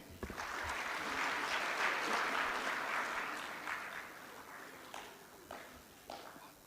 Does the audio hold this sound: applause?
yes